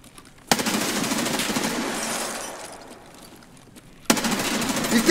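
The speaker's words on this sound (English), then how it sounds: "that was the longest gunfight of my life" Two long bursts of rapid automatic gunfire ring out during a firefight in Escape from Tarkov. The first is loud and sustained and tails off, and the second starts abruptly after a short lull.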